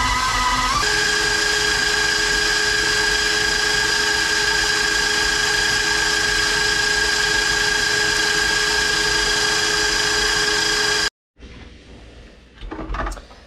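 An electric stand mixer beats cream cheese and butter for holiday cookie dough, a steady loud motor whine with a constant tone running for about eleven seconds, then cutting off into quieter handling noises.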